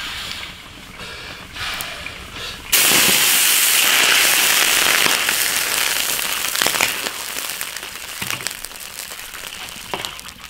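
Cured pork belly fries over low heat in hot oil in an iron wok. After a short, quieter start, a loud, steady bubbling sizzle with crackles sets in close by and continues to the end.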